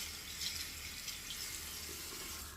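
Tap water pours in a steady, soft hiss as a shave brush handle is rinsed under a faucet, a continuous low-level rush with slight splashy variation and no voices.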